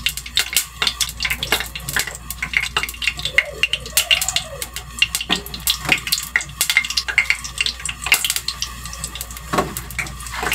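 Hot cooking oil crackles and pops in a pan while frying lumpia filled with leftover embutido, a steady stream of small sharp spits and bursts close by, with occasional voices talking over it.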